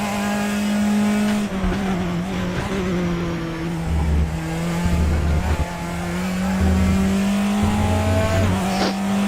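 A race car engine in the RaceRoom racing game at Portimao drones steadily and loudly, its pitch rising and dipping as the throttle is blended on and off through corners, with low thumps as the car bounces over curbs.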